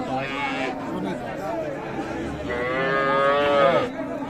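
Cattle at a village livestock market where Friesian cows with calves are sold give two long, loud moos close by, with men chattering and bargaining underneath.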